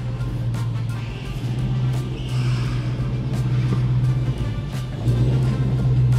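Dodge Hellcat engine idling in New York City traffic, a deep, steady rumble up close with a slight dip and rise near the end, with faint clicks and street noise around it.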